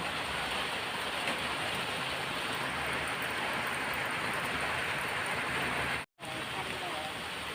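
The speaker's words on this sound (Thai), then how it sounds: "แต่ตอนนี้ฝนมันตกนะคะทุกคน" Rain falls steadily over a Thai orchard with durian, rambutan, mangosteen and longan trees and a pond, giving a constant dense hiss throughout with a brief dropout near the end.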